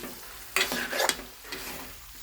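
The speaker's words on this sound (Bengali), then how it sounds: "ভালো করে লাড়বো। আবার এই কচু 10 মিনিট কষাবো আমি ভালো করে।" Taro pieces sautéing in a pan are turned with a spoon, a short burst of scraping and clinking over a quiet sizzle, close by and fairly soft, with no voices.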